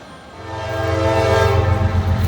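A Norfolk Southern freight train rolls past in Georgia, its loud horn sounding over a deep rumble of railcars that builds and stays close, with no talking.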